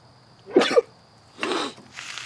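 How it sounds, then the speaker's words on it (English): A person lets out a close, sharp sneeze with a quick double burst, followed by softer breathy exhalations, in a quiet indoor room with no speech. "Oh, I'm gonna sneeze."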